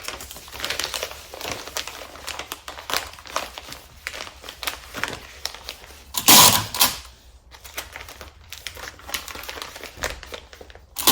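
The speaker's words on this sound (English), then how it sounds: "Padded envelope, folding it over." Padded shipping envelope being folded over and handled, a run of crinkly plastic-bubble rustles and crackles with one louder crumpling burst in the middle, close and alone.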